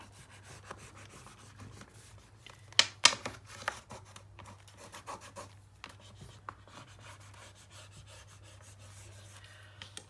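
Paper pages of an 8x8 mini album being burnished by hand, quiet soft rubbing and scraping strokes with a few sharper taps and crinkles, close and faint over a low electrical hum.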